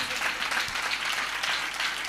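A church congregation claps hard during a worship service, a dense, steady wash of applause that stays loud and unbroken for the whole stretch with no voices above it.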